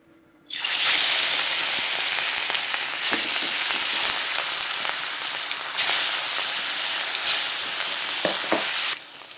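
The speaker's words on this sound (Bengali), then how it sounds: "এবার মাছগুলোকে ভেজে নেব" Katla fish frying in hot oil, a loud continuous sizzle that bursts in suddenly and holds steady for several seconds with brief crackles, then cuts off near the end.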